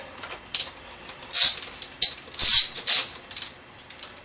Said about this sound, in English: with a open end wrench or box wrench, or sometimes your fingers